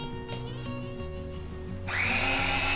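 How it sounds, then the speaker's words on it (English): A Hurricane cordless spin scrubber switches on and its brush head starts spinning, a steady whirring motor hum under low mechanical rattling, rising into a louder, brighter buzz partway through and holding steady close by. "the front head will start spinning"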